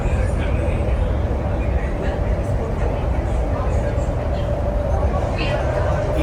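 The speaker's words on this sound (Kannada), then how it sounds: "ಇಂಡಿಯಾದ ಫಾಸ್ಟೆಸ್ಟ್ ಮೆಟ್ರೋ ಅಂತಿದೆ ದಿಲ್ಲಿ ಮೆಟ್ರೋ." Delhi Metro train running through a tunnel, a dense, steady rumble and roar that stays loud and unbroken throughout.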